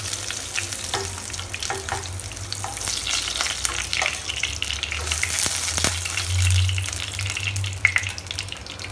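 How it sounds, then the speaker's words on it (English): Marinated fish frying in hot oil in a home kitchen, a steady close sizzle with crackling spatters and a few stirring clinks throughout, no talking. "we are going to fry the marinated fish"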